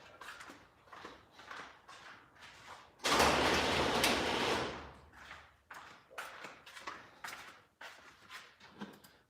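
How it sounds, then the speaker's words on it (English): An indoor door swings shut in one loud, close sweeping rush lasting about a second and a half, with short pauses of speech before and after and a faint low hum underneath. "let me close that door so that hopefully we don't hear that barking"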